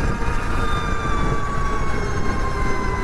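Energica Ego electric motorcycle accelerating on the road, a rising whine that grows higher and smoother with speed over steady wind and road roar, loud and close throughout.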